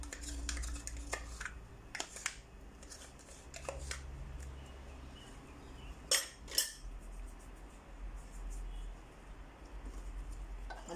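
A spoon mixes eggless, milk-free chocolate cake batter with chocolate yogurt in a bowl, making quiet, scattered taps and scrapes against the bowl over a low background hum.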